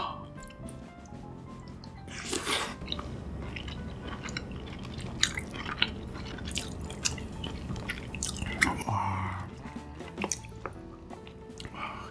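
King crab body meat mixed with its innards is eaten up close, with soft wet chewing, smacking and slurpy squelches, plus a few sharper clicks and crunches at moderate volume.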